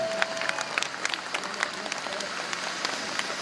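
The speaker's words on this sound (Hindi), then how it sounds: "जोरदार तालियां" An audience at a Jamia annual day event claps in a fairly faint, scattered burst of applause, with a steady patter of hands and a voice briefly audible underneath.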